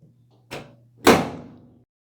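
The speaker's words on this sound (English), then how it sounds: "Now the moment of truth. Let's see if the door closes." A clothes dryer door swung shut on freshly flipped hinges: a light first contact followed half a second later by a louder solid thud that rings briefly and fades, close by with no talking.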